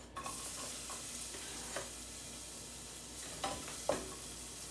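Onions frying in olive oil in a pan give a steady, fairly quiet sizzle with a few brief scrapes and stirring knocks spread through it.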